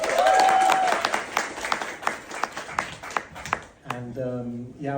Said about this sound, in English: please can we give her a round of applause for the amazing work she's done